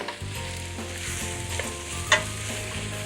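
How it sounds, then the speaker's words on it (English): Green peppers and onions sizzle steadily in a hot pan close by, with occasional scraping stirs and one sharp clink of a utensil against the pan. "And those are just going to fry until they're soft."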